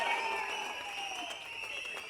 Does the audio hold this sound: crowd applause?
yes